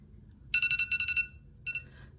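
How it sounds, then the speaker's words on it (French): An alarm clock goes off in a rapid burst of bright electronic beeps lasting under a second, then after a short pause sounds again briefly; the ringing is close and clear over a quiet room. "Vous avez entendu mon réveil?"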